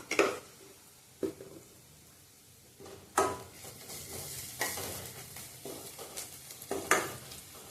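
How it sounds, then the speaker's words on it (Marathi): Spices being stirred and fried in oil in a pan: a soft background sizzle broken by several sharp utensil scrapes and clatters at irregular intervals, close and fairly quiet. "एकत्र करून तेलात भाजून घ्यायचं चांगलं"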